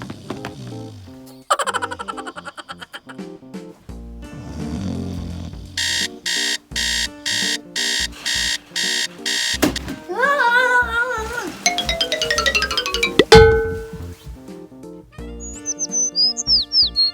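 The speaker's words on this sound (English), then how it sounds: "I just knew that alarm was set for 7." Alarm clock going off in a bedroom, a run of evenly spaced loud electronic beeps among playful cartoon sound effects and chirpy tones.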